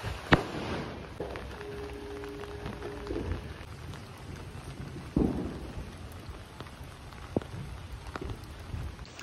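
Rain falling steadily on Diwali night in a village, a soft continuous patter with scattered sharp cracks and a few deeper distant booms from thunder or firecrackers, fairly faint overall.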